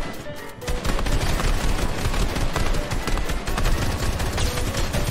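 Sustained rapid gunfire from a gun in a fast-paced competitive shooter match, dense bursts of shots rattling continuously and loudly with no pause, no talk over it.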